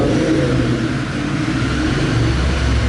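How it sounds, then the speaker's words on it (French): A motorcycle engine revs hard and pulls away, a loud, steady mid-pitched roar that holds for about three seconds with no one talking. "La moto est partie."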